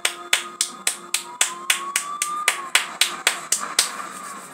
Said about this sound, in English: So that deserves a clap.